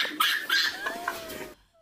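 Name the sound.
chicken clucking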